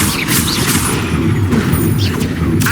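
A spell is cast in Hogwarts Legacy, the Expelliarmus disarming charm used during a spider boss fight, making a dense, continuous rumbling blast of magical combat noise that stays loud throughout.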